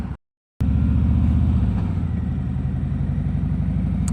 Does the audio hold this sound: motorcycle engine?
yes